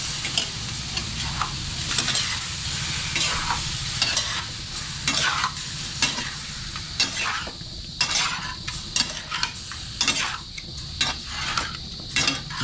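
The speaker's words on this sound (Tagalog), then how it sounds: "Haluin muna natin mga idol guys" Pork adobo being stirred in a pan, with a steady sizzle and frequent clinks and scrapes of a utensil against the metal, loud and close.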